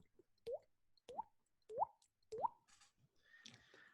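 A person imitates water dripping with their mouth, producing four evenly spaced, hollow plopping pops at close range, followed by a brief breathy rustle.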